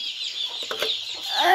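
Poultry chicks on a small farm cluck and peep steadily while feeding, a close, continuous chatter of many birds with a rising call near the end.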